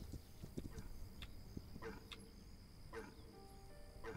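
Hooves of a horse in the PC game This Land Is My Land clip-clop in an irregular rhythm over a steady hum, moderately close, with faint chirping in the background and no talking.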